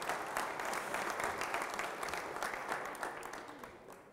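Audience applause at a whisky masterclass at Bruichladdich Distillery during Feis Ile 2018, a steady dense clapping from a room of people that gradually fades toward the end.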